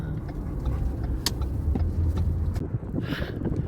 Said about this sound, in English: Look at this car in front of us.